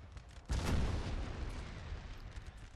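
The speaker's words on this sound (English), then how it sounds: "I just let the infantry and the artillery sort of shoot at them until they are out of range." Gunfire from infantry muskets and artillery cannons in a Napoleonic Total War III battle, with a heavy booming burst that swells in and then rolls on as a sustained, rumbling barrage of distant shots.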